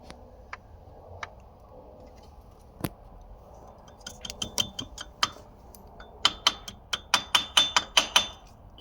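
A pin being hammered into a freshly drilled hole on a Duramax engine camshaft: scattered sharp metallic taps at first, then a steady run of close, ringing hammer strikes that grow louder toward the end.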